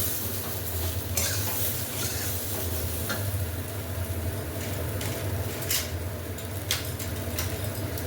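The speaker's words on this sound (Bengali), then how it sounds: "সিদ্ধ আলুটার খোসা না ছাড়িয়ে কিন্তু আমি দিয়ে দিচ্ছি" Unpeeled boiled potato and lentils stirred in a pan with a low continuous bubbling sizzle and occasional scraping knocks of a spoon against metal, no voices.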